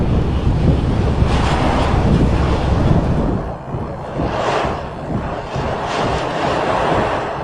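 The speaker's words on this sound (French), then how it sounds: "il y avait un vent glacial très puissant qui nous giflait" Strong icy wind in Iceland buffeting a microphone, a loud continuous roar with gusty surges and rumbling low-end buffeting, no voices.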